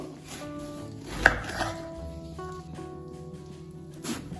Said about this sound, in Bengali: এই বেগুনটাকে এবার আমি কেটে নেব।